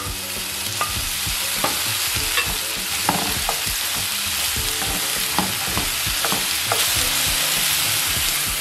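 Broccoli and carrot stir-frying in a pot, a loud continuous sizzle with repeated scraping strokes of a spatula against the pot, steady and close throughout.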